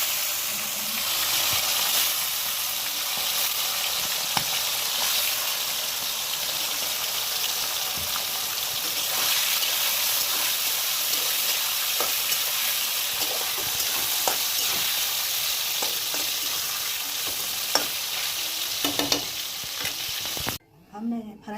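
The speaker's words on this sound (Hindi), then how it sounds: "अब डालेंगे सरसों तेल जाएगा फ्राई करने के लिए" Chicken frying in hot mustard oil in a kadhai, a loud continuous close sizzle with occasional stirring scrapes, steady for the whole stretch with no talking, ending abruptly.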